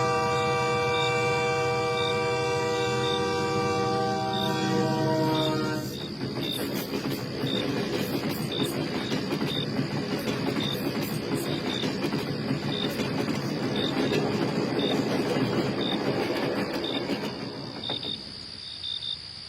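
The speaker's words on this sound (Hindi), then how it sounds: "तभी दूर से एक हॉर्न सुनाई देता है। लगता है आज रात का आखिरी ट्रेन आ रहा है।" At night near Jalgaon station, a distant sustained train horn sounds over steady chirping crickets, then gives way to the broad, continuous rumble of the last train arriving, with no talk.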